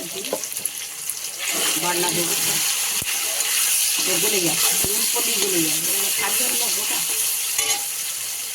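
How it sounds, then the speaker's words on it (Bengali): Spices sizzling and being stir-fried together in a pan for a Bengali jackfruit and prawn curry, a steady loud hiss with scraping stirs, while a voice talks over the cooking. "এগুলো মশলাটা সব একসঙ্গে দিয়ে কষানো হচ্ছে"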